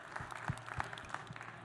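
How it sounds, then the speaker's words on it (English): Brief, faint applause from a conference audience at a summit stage session, a short patter of a few scattered claps heard from a distance. "Let's give Lloyd a round of applause."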